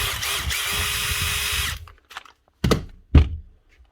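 A freshly repaired Makita impact driver, fitted with a new switch and connector, runs in one loud, close motorised burst of under two seconds, followed by a few dull thunks as it is handled and set down.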